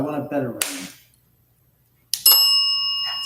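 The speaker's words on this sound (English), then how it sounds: "let me turn on the bell" A bell rings out once, a sharp metallic strike with a long sustained ringing tone that hangs on, heard alone after a brief pause following talk, inside a haunted house.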